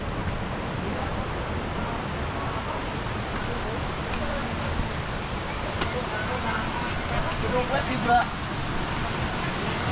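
A large waterfall in Lembang, Bandung, gives a steady, loud broadband roar of falling water that fills the full ten seconds, with faint voices mixed in.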